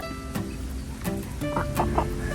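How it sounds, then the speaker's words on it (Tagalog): Farm chickens in a countryside yard give a few short clucks close by, scattered over a low steady outdoor background with no talk. "maamo ang mga manok dito"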